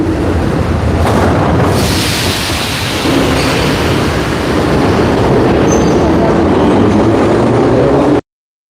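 A train passes loudly and continuously, a heavy roaring rumble filling the whole stretch close by, with no voices over it.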